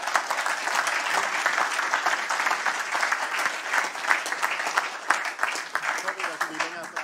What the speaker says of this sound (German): Mit diesem Schlusswort einen großen Applaus.